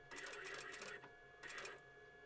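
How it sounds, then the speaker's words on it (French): A sewing machine runs in two short bursts of stitching through fabric, the second after a brief pause, near and fairly faint, with no talking. "Et puis, on va tout simplement venir coudre."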